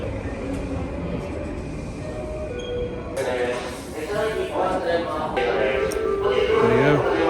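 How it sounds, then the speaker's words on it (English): A Japanese train bound for Ikebukuro rumbles steadily into a Tokyo station, wheels and motors droning, with a chime and faint squeals rising over the noise. "The train bound for Ikebukuro will soon arrive on track number"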